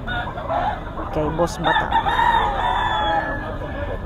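A young stag rooster crows once, loud and close, a long drawn-out call amid other fowl clucking, with someone speaking briefly before it.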